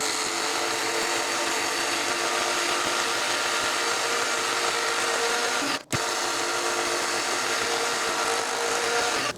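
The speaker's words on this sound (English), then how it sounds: "I have my Dremel tool and I want to rough some of this up just a little bit" A Dremel rotary tool roughs up the surface of a wood coaster, its high, steady whine and grinding buzz running loudly and continuously, broken only by a brief dip partway through.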